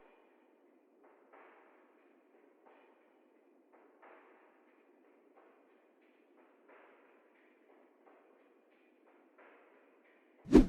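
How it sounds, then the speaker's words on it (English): Chopped drum loop in a hip-hop beat, played very quietly and heavily filtered: soft, muffled hits recur in a steady pattern, ending with a sudden loud thump. "I chopped this little drum loop"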